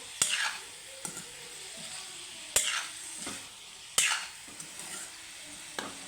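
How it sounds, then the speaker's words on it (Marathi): Cabbage and cauliflower sabzi being stirred in a pan after coriander is added, with a few sharp spoon scrapes and knocks against the pan over a soft, steady sizzle. "आपण वरून कोथिंबीर टाकू परत हलवून घेऊ"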